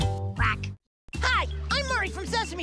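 A duck character on Sesame Street quacks in a voiced, nasal squawk, cut by a brief silence. A voice that imitates a duck continues with lively quacking chatter.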